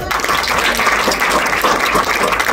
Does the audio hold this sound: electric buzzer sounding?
no